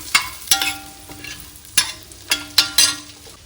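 Garlic and pasta seasoning fry in a pan, with a soft sizzle broken by several sharp scraping stirs of a spoon in quick, uneven succession.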